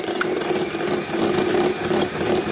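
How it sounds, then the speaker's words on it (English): An electric mixer whisks butter and sugar, a continuous close whirring motor hum with a steady tone and faint rhythmic scraping from the beaters throughout. "So guys, I'm gonna whisk this now. This is butter and sugar"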